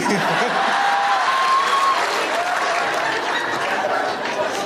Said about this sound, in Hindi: भाई क्या भीड़ है, मस्त।